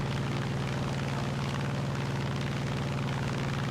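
A P-47D-28 Thunderbolt's radial engine drones in War Thunder, a heavy, steady propeller roar that stays loud and unbroken throughout with no talking.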